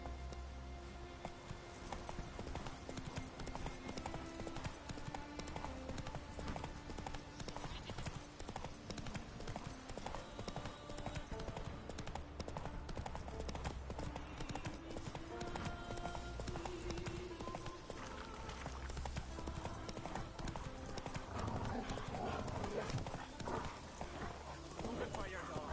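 A horse trotting in a game world, its hooves clip-clopping in a continuous even rhythm for the whole stretch, moderately close, with a voice speaking over the hoofbeats.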